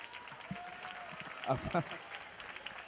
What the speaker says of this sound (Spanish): aplauda fuerte, hombre, claro que sí